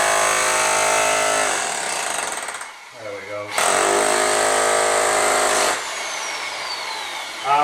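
Pneumatic air hammer breaking up an old kitchen during renovation, a loud continuous rattling hammer that cuts out briefly near the middle, then resumes hard and steady before easing to a lower run toward the end.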